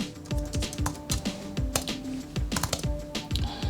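Rapid typing on a computer keyboard during PowerShell profile setup, a fast irregular run of close, crisp key clicks filling the whole stretch with no talk over it.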